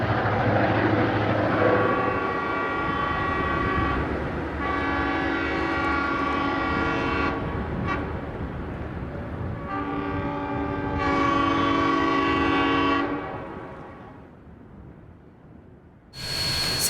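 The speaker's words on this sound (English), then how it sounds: "San Francisco Chief Train Number 2 crosses the Merced River west of Cressy." Santa Fe San Francisco Chief passenger train No. 2 crossing the Merced River west of Cressy, heard from a distance: long sustained horn blasts repeat several times over the steady rumble of the moving train.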